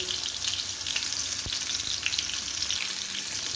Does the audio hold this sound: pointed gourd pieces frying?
yes